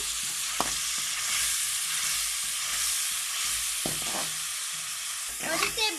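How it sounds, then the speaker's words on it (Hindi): Tomato paste and green chilies fry in a pan with a steady, close sizzle that runs throughout, broken by a few soft scraping stirs of a spoon. "अब हम इसमें टमाटर का पेस्ट डालेंगे। इसके साथ हम सब्ज़ मिर्च डालेंगे"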